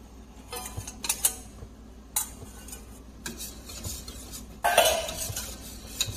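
Swedish meatball mixture being stirred in a bowl with a utensil, a series of close scraping and clinking strokes with brief pauses, rising to a louder stretch of mixing near the end, with no talking.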